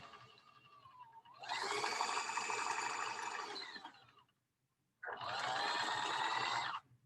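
Sewing machine stitching a quarter-inch seam along the presser foot, two bursts of fast, steady whirring mechanical stitching separated by a brief silent pause, close and clear.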